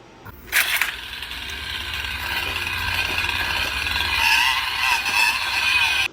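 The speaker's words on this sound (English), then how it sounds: "They had the gall to add a revving feature and make it work almost like an actual chainsaw" A novelty collaboration game controller with a chainsaw-style revving feature whirs and buzzes with a sustained, fairly loud mechanical drone after a sharp click, continuing steadily without any talk.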